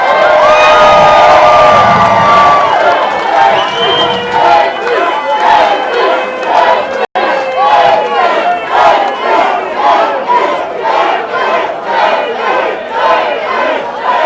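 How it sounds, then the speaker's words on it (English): A bar crowd at a Hemingway lookalike contest at Sloppy Joe's in Key West cheering and clapping loudly, with shouts and whoops that fade into scattered applause. "One last round of applause for Tim, Jay, Frank, Steve, and Zach"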